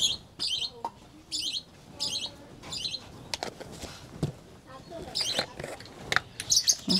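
Small birds chirp and tweet in quick repeated bursts around a village, fairly close and bright, with short pauses and light clattering sounds in between.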